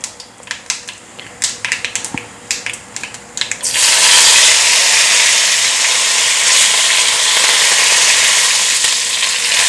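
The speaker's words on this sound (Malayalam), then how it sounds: "ഇത് കടുക് പൊട്ടുന്നു" Sharp pops and crackles of mustard seeds spluttering in hot oil sound for a few seconds, then a loud, steady hiss of hot oil fills the rest without pause.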